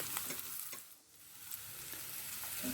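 Onion and garlic stir-fry in hot oil in a pan for sweet and sour Kentucky tofu, a dense, steady sizzle with soft scraping stirs, close-up and without voices.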